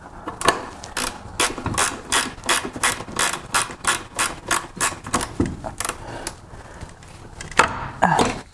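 A hand ratchet clicks rapidly and steadily while backing bolts out of the rear differential on a BMW E36 M3. The dense run of sharp, close, loud clicks comes in short bursts with brief pauses, and no one talks.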